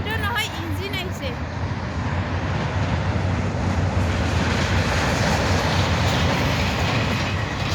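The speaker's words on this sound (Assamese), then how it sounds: "ট্ৰেইনটো নহয় ইঞ্জিন আহিছে" A lone railway locomotive engine, without carriages, rolls across a bridge over the Beki river near Sorbhog, producing a loud, continuous rumbling roar that holds steady from start to finish.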